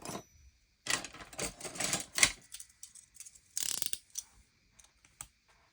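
Heavy cardstock is cut by hand for a flagbook, giving a series of crisp, close cutting crunches in uneven bursts with short pauses between them and no talking.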